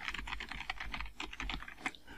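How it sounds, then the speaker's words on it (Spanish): Fast, steady typing on a computer keyboard while entering text in a Word document: a close run of crisp key clicks with no talking. "tecleando en Word."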